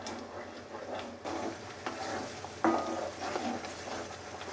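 Masala paste sautéed in a pan for a Gatari mutton dish: a soft, close sizzle and frying hiss with scraping stir strokes at intervals, moderately quiet and with no talk.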